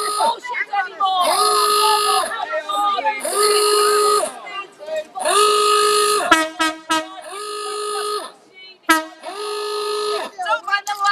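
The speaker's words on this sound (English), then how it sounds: "Don't mind the alarm." An alarm blares loudly in long repeated electronic buzzer blasts at a protest in a science museum, broken by shorter rapid pulses, with scattered voices in between.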